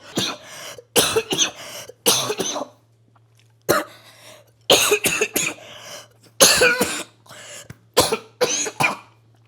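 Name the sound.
Tren cough from steroid use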